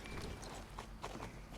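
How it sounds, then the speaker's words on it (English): Appaloosa horse in Star Stable Online at mid-gallop, hooves drumming in a quick, steady clip-clop rhythm over continuous game ambience. "Then the mid-gallop."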